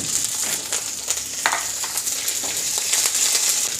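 Urad dal and curry leaves fry in hot oil in a pan, giving a steady crackling sizzle with sharper pops and spits scattered throughout, close and fairly loud with no voices.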